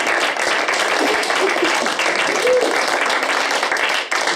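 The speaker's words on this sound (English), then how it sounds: "put your hands together for your panelists this evening" An evening audience applauds panelists in a continuous, fairly loud wash of clapping, with a faint voice briefly rising above it midway.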